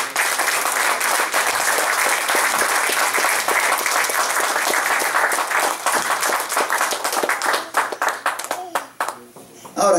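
A church congregation claps in praise during a sermon on baptism. The applause is loud, dense and continuous for about nine seconds, then thins into a few scattered claps before a voice returns.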